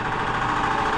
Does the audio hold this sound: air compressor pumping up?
yes